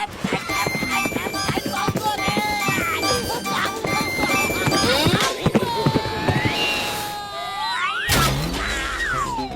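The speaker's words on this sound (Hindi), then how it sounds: "वो दिलावर खान का घोड़ा है रफ्तार।" A cartoon racehorse's hooves clip-clop rhythmically in a Motu Patlu animated episode, mixed under busy, loud background music and sound effects.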